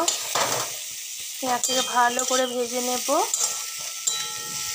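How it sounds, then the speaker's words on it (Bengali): Onions frying in a kadai, a steady sizzle and stir under a voice speaking briefly in the middle. "এখানে কড়াতে পেঁয়াজ ভাজা হচ্ছে"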